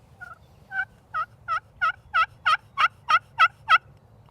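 A wooden chestnut turkey call plays a series of about eleven rhythmic hen-like yelps that grow louder and more ringing, heard alone over a low background hum.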